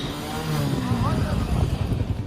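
A gang of motorcycles with loud modified silencers passes beneath a metro station, the engines roaring and revving steadily and fairly close, with a reporter's voice talking over them.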